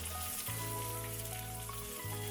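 Chopped shallots fry in a pan for a chicken roast with a steady, soft sizzle and crackle, continuous and moderately quiet under a low background hum.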